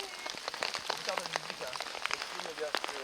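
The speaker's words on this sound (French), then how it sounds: "On va commencer une troisième journée sous la pluie." Rain falls on a tent during a multi-day mountain trek, a soft but steady patter of close, distinct drops tapping the fabric, fairly quiet overall.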